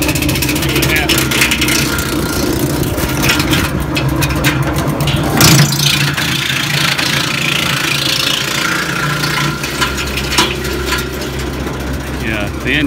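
A Woodmaxx TM86H wood chipper driven by a John Deere 1 Series tractor roars steadily as its engine runs and chips a half-dead branch, a loud continuous drone with bursts of crunching and rattling, while someone talks nearby.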